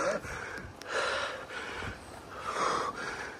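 Heavy, fast panting on an uphill climb during a cross-country road ride in Korea, breaths close and moderately loud, several gasping exhales in a row with no talk.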